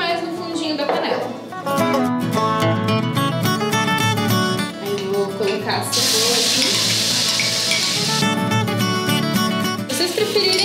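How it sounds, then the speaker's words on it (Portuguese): Onion cream sautéing in olive oil in a pan: steady sizzling and stirring under continuous talk, with a sharper hissing burst midway. "vamos começar refogando esse creme de cebola com um pouquinho de azeite"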